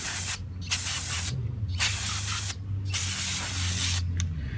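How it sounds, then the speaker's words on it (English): Brake cleaner blasted from an aerosol can into piston rings on a Mini Cooper: four sharp, loud bursts of spray hiss separated by short pauses, close to the listener with no voices. "I'm going to blast it with some brake cleaner"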